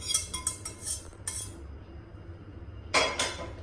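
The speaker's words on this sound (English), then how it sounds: "Now let us mix the sauce which we have prepared." A spoon mixes cooled sauce into apples for an apple pie in a bowl, with quick metallic scrapes and clinks in bursts, a pause with faint rustling, then another scraping clink close by.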